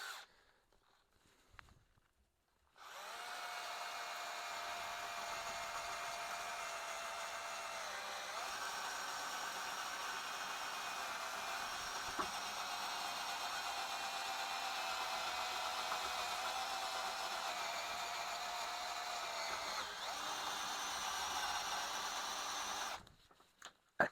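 A Bosch GSR 12V-15 Professional cordless drill driver runs steadily at a high torque setting for about twenty seconds, a loud continuous motor whine with slight load changes, starting and stopping abruptly.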